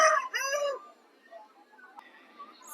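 A black rooster gives a short, fairly close crow and clucky call at a market, followed by quiet background with faint rustling.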